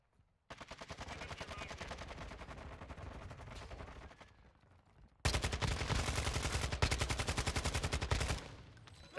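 Automatic gunfire in a Call of Duty Resurgence match, two long rapid bursts of close, loud shots separated by a brief lull, the second burst harsher and louder, with no talk.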